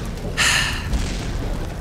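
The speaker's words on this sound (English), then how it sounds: "I'm gonna die because this amazing homing missile fireball he's shooting" A homing missile fireball explodes in the video game Lucius 2, a single short loud burst of noise that fades into a low rumble.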